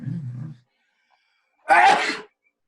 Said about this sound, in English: I'm famous for my loud sneezes.